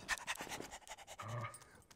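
A dog named Cujo pants in the GTA 5 video game, a close, steady run of quick breathy huffs with no talking over it.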